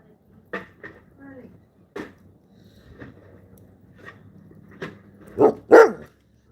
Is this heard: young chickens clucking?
no